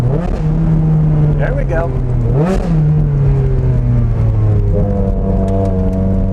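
Ferrari Challenge Stradale supercar engine revving hard close by, a loud rising and falling howl with a sharp peak midway, then settling; someone speaks briefly over it.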